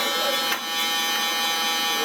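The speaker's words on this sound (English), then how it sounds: "I'm just gonna go ahead and use a shaver for now" A steady electric buzz from a shaver cutting hair during a taper fade haircut hums continuously and close by, with no talking.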